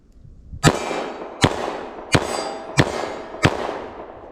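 Five loud, sharp gunshots of Fiocchi Defense Dynamics 158 grain .357 Magnum JHP rounds from a snub-nosed revolver, evenly spaced about two-thirds of a second apart, each followed by a ringing outdoor decay.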